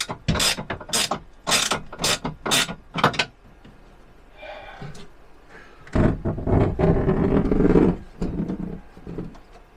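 A hand ratchet cranks something tight in a run of about six sharp, evenly spaced clicking bursts, then a pause with faint rustling, followed by a longer grinding stretch of quicker ratcheting, close and loud.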